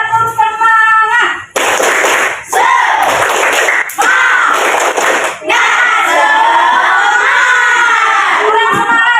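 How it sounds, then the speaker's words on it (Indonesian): Children shout and clap together in a rhythmic spirit chant at a school, loud bursts of group voices with sharp claps, broken by brief pauses between phrases. "Siap, tepuk semangat."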